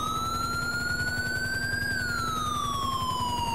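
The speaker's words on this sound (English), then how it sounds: "we'll turn off our sirens" A police car siren in GTA V wails loudly and continuously, its rising tone peaking and then sliding back down in one long sweep, up close with no talking.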